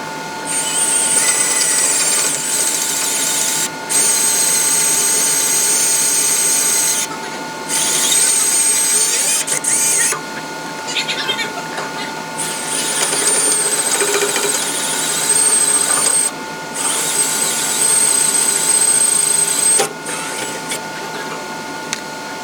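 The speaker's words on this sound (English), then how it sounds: "you saw me drilling holes right there" A drill boring holes in a truck frame for a B&W hitch installation on a first-generation pickup, a steady high whine running in several long bursts with short pauses between them, loud and close, with no talking.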